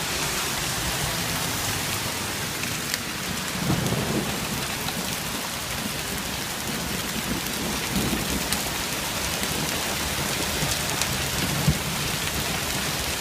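Steady heavy downpour of rain and hail pelting surfaces during a Mother's Day thunderstorm in Vestal, New York, with low rumbles of thunder rolling through the dense, unbroken hiss.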